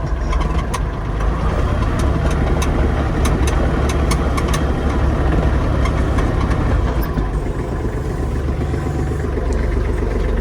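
Kubota GL-25 mini tractor driving in fourth gear, its diesel engine running loud and steady throughout with a continuous low rumble and clattering knock.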